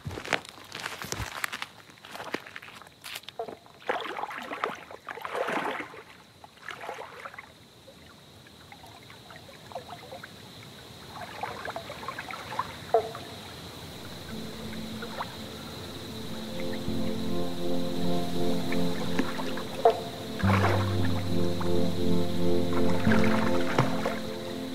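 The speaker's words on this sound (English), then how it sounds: "I'm going to try and slip into the water now." A person eases into the water of a farm dam at night, with soft splashes, trickles and drips moving through the water, growing into steady sloshing and lapping near the end, while insects buzz in the background.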